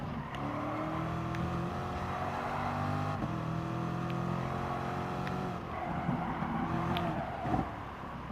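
A Corvette race car in the Gran Turismo Sport game gives a loud, steady engine drone. The pitch rises and falls as it revs through corners, with brief shift dips along the way.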